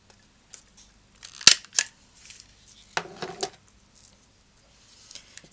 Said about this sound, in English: Just staple that with my tiny attacher.